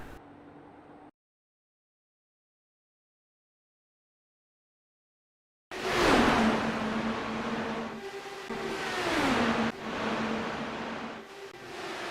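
Race cars pass on an oval track during a 100-lap race, their engines roaring with falling pitch sweeps as they go by. A brief dropout cuts the sound before the cars return loud and close.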